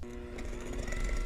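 An electric mixer creams softened butter with granulated sugar in a bowl, giving a brief, close, steady motor whir with a humming tone throughout.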